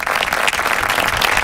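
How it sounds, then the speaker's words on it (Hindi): Audience applause after a woman steps down from the witness stand in a courtroom, a dense, steady burst of clapping from many hands, close and continuous throughout. "ओम राधे कटघरे से जब नीचे उतरी तो लोगों ने तालियों से उनकी सत्यता को सराहा।"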